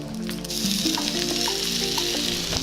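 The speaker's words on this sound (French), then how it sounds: "je vais juste faire notre steak de poisson. Je vais la mettre sur la poêle." A salted fish steak lies skin side down in a hot pan, giving a close, steady sizzle with a few soft squelching shifts, short and unbroken, with no one talking.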